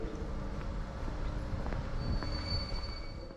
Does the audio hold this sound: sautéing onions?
no